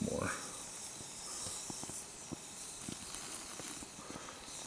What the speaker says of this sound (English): cat stove is still going strong